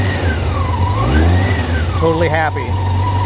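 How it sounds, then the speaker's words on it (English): A 1987 Honda CBR600F Hurricane motorcycle engine idles with the choke off, a steady, even low rumble that holds close by throughout while a person talks over it. "So it's idling with the choke off, which means that the pilot jets are all good,"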